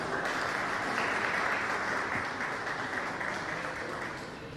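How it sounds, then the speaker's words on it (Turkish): Audience applause at a photography marathon award ceremony in Manisa, a dense, steady wash of many hands clapping that fills the room, holding loud throughout and easing slightly toward the end. "alkışlarınızla teşekkür ediyoruz"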